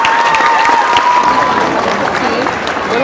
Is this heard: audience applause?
yes